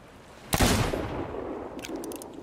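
A single cannon blast in Sea of Thieves booms suddenly and loudly, its rumble trailing off over the next second or two, followed by faint clattering.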